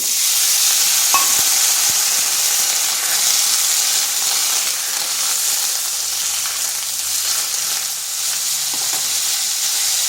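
Cut potatoes fry in hot mustard oil with two dried chillies and whole cumin, giving a loud, continuous sizzle with occasional stirring scrapes and no talking.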